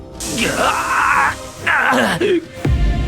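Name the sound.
man screaming in pain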